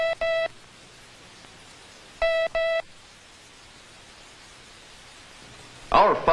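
Morse code sent as pure electronic tones: a short pair of beeps, a pause, then two more paired beeps, each clear and steady over faint hiss, with a brief burst of another sound at the end.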